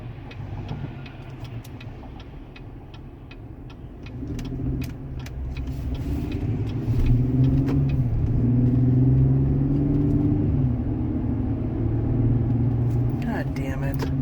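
A car drives along with its engine running, a low steady rumble that rises a little as it picks up speed, with faint clicks and ticks inside the cabin, and a voice speaks over it.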